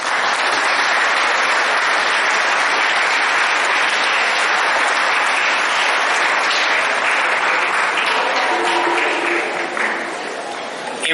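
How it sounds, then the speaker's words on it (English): A large crowd applauds loudly and continuously, the clapping thinning slightly toward the end. "Please clap."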